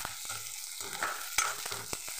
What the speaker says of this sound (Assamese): কেৰাহীত মিঠাতেল দি ইয়াতে পিঁয়াজখিনি দি দিছোঁ।